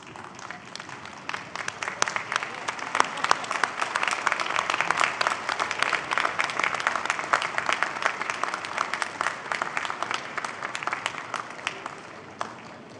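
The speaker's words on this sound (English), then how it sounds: "give them a warm round of applause for supporting your journey" Applause at a university spring convocation graduation ceremony: a large crowd claps steadily and densely throughout, a sustained even wash of many hands at moderate distance.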